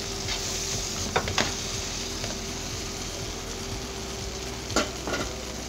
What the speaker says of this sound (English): Just stir a bit, not much